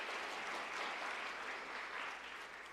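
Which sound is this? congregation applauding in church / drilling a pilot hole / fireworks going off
congregation applauding in church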